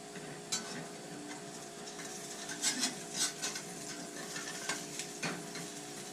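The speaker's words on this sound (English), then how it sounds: "I am going to flip my pancake egg." A pancake-style egg is flipped in a frying pan, giving a faint, steady sizzle with a few light scrapes and taps of a utensil against the pan and no voices.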